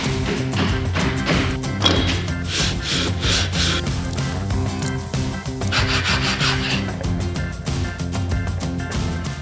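Car brake pads filed down by hand to fit the calipers, loud close rasping strokes repeating in a steady back-and-forth rhythm with gritty scraping, no talking.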